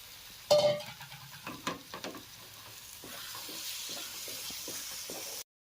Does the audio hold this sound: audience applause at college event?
no